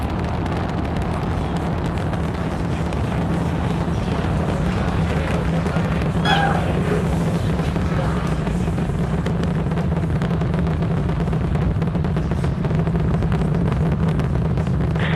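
A SpaceX Starship Super Heavy booster's Raptor engines roar in flight as a continuous, dense, rumbling wall of sound that holds steady throughout, distant yet powerful.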